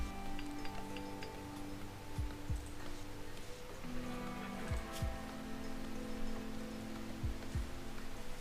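RimWorld rainfall heard as a quiet, constant hiss of drops, joined now and then by brief clicks and taps over a low background hum.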